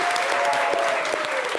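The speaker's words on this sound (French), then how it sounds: "Les amis, on peut l'applaudir très très fort." A live show audience applauds the winner of a game, brief, steady crowd clapping with a faint tone running underneath.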